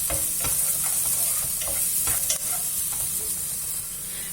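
A chopped onion sweats with a pinch of salt in a pan for a quick minestrone, giving a steady sizzle with repeated spoon-stirring clicks and scrapes close by.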